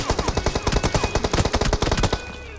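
Rapid automatic gunfire in BGMI (PUBG Mobile) knocks down an enemy near a warehouse, a loud, close burst of evenly spaced shots rattling for over two seconds before stopping.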